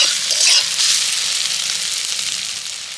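Pointed gourd and red lentils frying together in a pan, a loud, continuous close sizzle that crackles a little harder at the start and then slowly fades, with no talking.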